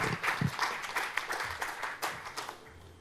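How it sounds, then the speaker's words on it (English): Applause from an audience at a climate change adaptation and disaster resilience conference, a brief patter of clapping heard close and moderately loud. "So please welcome her with a round of applause"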